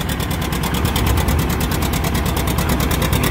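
A 1953 John Deere R diesel tractor runs at a tractor pull. The engine gives a loud, close, steady chugging with an even rapid pulse throughout and no pauses.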